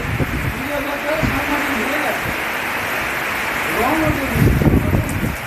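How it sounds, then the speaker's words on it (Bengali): Dense, hissing heavy rain with wind roars steadily while a voice talks over it. "বৃষ্টির সঙ্গে সঙ্গে বাতাসও দেওয়া হচ্ছে"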